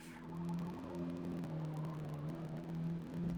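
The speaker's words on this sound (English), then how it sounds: "Bit of dirty bass coming out the engine." Steady, loud in-game car engine from Forza Motorsport, a low buzzy drone with a bassy, gritty hum that holds nearly level throughout.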